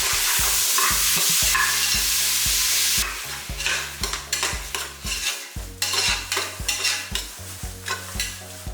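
Onions and tomatoes sauté in a pan for mutton curry: a loud, continuous sizzle at first, then rhythmic scraping and clattering strokes of a spoon stirring close by, with no speech.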